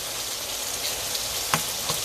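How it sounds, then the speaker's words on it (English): Ingredients for Jamaican ackee and saltfish frying in a pan, a steady close sizzle with a couple of faint pops and small stirring ticks. "now see everything is frying up nice and neat in a nice little simmer"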